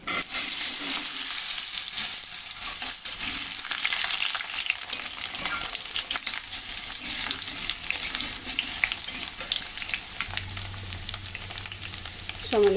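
Potatoes fry in a generous amount of oil, with a pinch of turmeric added, for aloo dum. A steady, dense crackling sizzle runs close and loud the whole time, broken by occasional stirring scrapes, with a low hum creeping in near the end.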